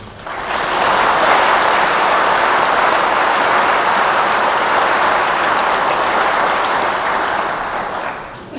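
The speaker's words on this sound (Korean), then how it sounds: "우리 허승욱 정모부지사님께 여러분 격려의 큰 박수 한번 좀 부탁드립니다" A hall full of staff at a provincial government employee gathering breaks into a big round of applause that swells quickly, holds as a thick even roar of clapping for several seconds, then eases off.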